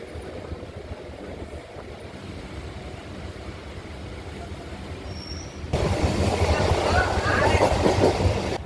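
A suburban train runs between Tambaram and Egmore with a constant rumble and faint clatter inside the carriage; it swells louder and rougher partway through and stays loud to the end.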